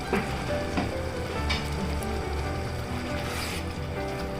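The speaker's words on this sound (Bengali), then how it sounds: "মশলাগুলো ফুটছে" Spices sizzle and bubble in a hot pan while chicken curry, a chicken dopiaza, is being cooked, a steady close-up crackling hiss that runs unbroken, with a few sharper pops and no voices.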